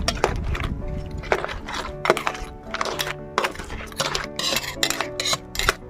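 Crabs in creamy coconut milk sauce are stirred in a pot for ginataang alimango, a spoon scraping and clinking against the pot in steady repeated knocks and rattles, close and fairly loud, with no talking.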